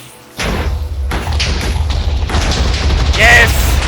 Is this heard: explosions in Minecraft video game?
yes